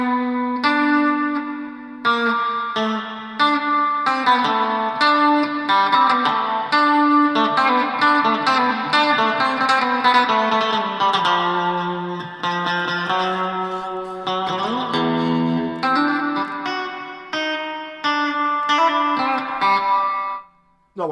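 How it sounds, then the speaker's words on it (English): Electric guitar with a touch of reverb plays a continuous run of chords and single notes, loud and steady, with brief gaps and no voices. "I do like a wee bit of reverb though"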